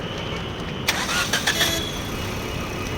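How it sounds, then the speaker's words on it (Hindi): The starter cranks briefly on a Maruti Suzuki Swift petrol car with a newly fitted engine, then the engine catches and settles into a steady, moderately loud idle nearby. "चलो भाई गाड़ी स्टार्ट हो चुकी है"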